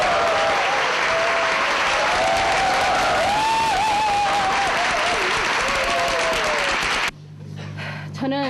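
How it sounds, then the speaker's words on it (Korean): Loud, sustained audience applause at a military unit event, thick clapping with a voice or cheer rising through it before cutting off abruptly near the end. "적극적인 박수를 통해서 어머님을 불러보도록 하겠습니다."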